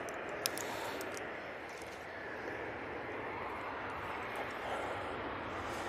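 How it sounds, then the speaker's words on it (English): An Embraer Phenom 300 business jet at Manchester Airport gives off a faint, steady broadband engine hiss and rumble, distant and even throughout with a small click near the start. "It's the Embraer Phenom 300."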